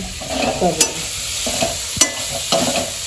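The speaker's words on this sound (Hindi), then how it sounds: "तो ये खोआ भी हमारा भुन गया है।" Khoa being roasted and stirred in a pan, soft sizzling frying beneath repeated scraping strokes of a spoon across the metal, close and clear with no talk.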